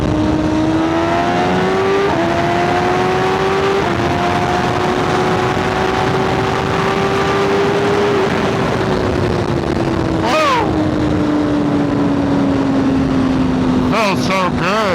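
2025 BMW S1000RR sport bike with an Arrow exhaust pulls hard in its power band, its loud close engine note climbing through gears with sharp breaks at each shift and quick crackling upshifts near the end.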